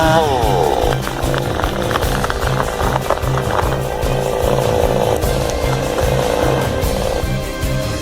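Chainsaw cutting into a tree trunk, a loud continuous engine roar with a rough, pulsing rhythm that holds throughout, close and unbroken.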